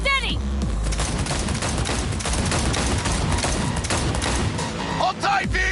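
Rapid automatic gunfire in Cyberpunk 2077 during a car chase, a loud, continuous fusillade of close shots that hammers on throughout, with shouted voices briefly breaking through and engine noise underneath.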